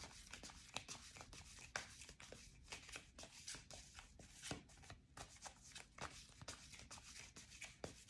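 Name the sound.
shuffling tarot cards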